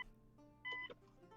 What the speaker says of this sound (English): I hear it's still beeping.